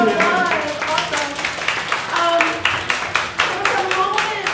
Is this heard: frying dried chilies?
no